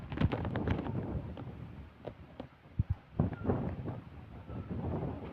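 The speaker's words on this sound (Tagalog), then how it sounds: "malakas pang hangin dito sa lugar namin, pero wala pang ulan" Strong typhoon wind blowing outdoors in a village before the rain arrives, a steady loud rushing roar with sharper gusts and buffeting against the microphone throughout.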